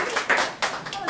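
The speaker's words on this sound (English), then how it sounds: "Let's have a round of applause" Brief clapping from an audience at a college anthropology alumni lecture, a few hands striking in quick bursts while a voice carries over the top.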